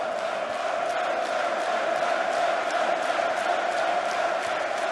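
Large darts crowd at a PDC European Tour event in Riesa, a dense, continuous roar of cheering and chatter filling the arena at steady loudness, with a voice speaking over it.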